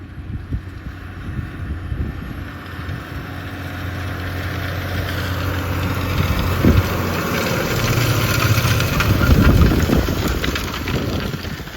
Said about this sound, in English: 8 metre disc harrow, tractor's barely even batting an eyelid.